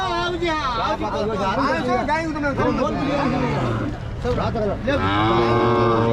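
Calves and cattle at a native cattle market bellow loudly in repeated, drawn-out moos close by, layered over a hubbub of crowd chatter.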